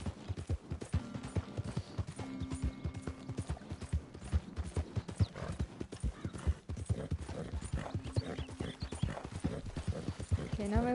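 Horse hooves clip-clop in a steady trotting rhythm in Red Dead Redemption 2, with a brief whinny among the beats and someone talking over them.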